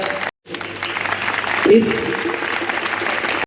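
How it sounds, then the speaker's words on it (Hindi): Crowd applause welcoming guests at a school award ceremony for students, a sustained wash of clapping heard under someone talking over a microphone, after a brief silent gap at the start. "जोरदार तालियों से उनका स्वागत"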